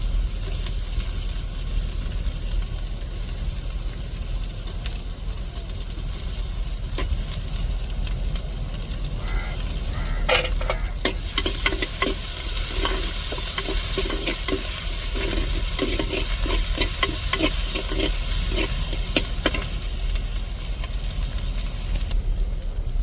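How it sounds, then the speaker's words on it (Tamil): Chopped large onion sizzles and fries in a pan of oil for a Tamil kuzhambu, with a steady close crackle, then a stretch of rapid scraping stirs in the second half; no one talks. "இப்போ பெரிய வெங்காயம் ஒன்று வெட்டி போட்டுக்கிடுவோம்."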